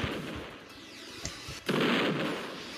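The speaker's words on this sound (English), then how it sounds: "Okay, now we have our rocket launcher" A rocket launcher fires in the Roblox Epic Minigames video game: a sharp thump followed by a loud, rushing blast that swells and slowly fades, over a low game background.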